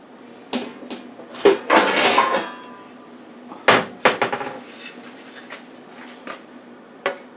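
Mini sweet potato cream cheese pies are set down one after another on a metal baking pan, giving close, sharp metallic clanks and scrapes in irregular bursts with quiet gaps between them.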